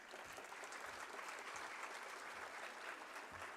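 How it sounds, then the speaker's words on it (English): An audience applauds at a law and peace symposium, a steady wash of clapping heard from a distance at low level with no voices over it. "big round of applause for him"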